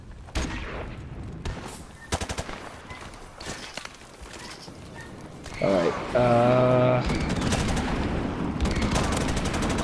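Gunfire crackles in Call of Duty Modern Warfare Remastered during an online match, with repeated sharp shots and bursts scattered across the clip, mixed with game effects and voices talking over the action.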